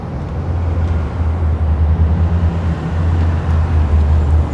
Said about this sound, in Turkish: Burada bir spor arabamız var.